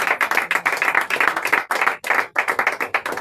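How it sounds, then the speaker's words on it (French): A church congregation claps steadily in praise during a French-language fasting and prayer service, dense rhythmic handclaps filling the room with brief pauses. "Acclamons le Seigneur Jésus-Christ"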